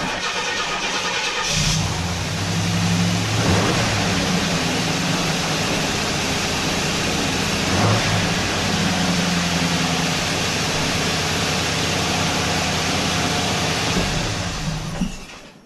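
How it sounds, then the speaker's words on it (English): A Chevrolet El Camino parts car's engine cranks and fires after a short quiet lead-in, then settles into a steady, loud idle close by that runs without interruption for over ten seconds before cutting off at the end. "Engine started up. Sounds great."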